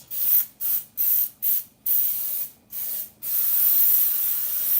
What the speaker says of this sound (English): I like to use the baking spray.